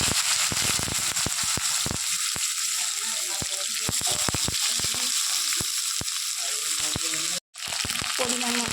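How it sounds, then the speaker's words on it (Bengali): Taro stolons fry in a pan with cumin seeds, giving a steady close sizzle broken by many sharp crackles and pops. A brief gap of silence comes near the end. "জিরেটাকে একটু ভাজা ভাজা করে নিয়ে লতিটা দিয়ে দেবো।"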